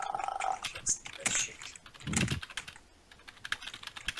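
Quick bursts of typing on a faulty computer keyboard during a Minecraft gaming session, soft irregular clacks close to the mic with a brief low thump and faint sounds between keystrokes.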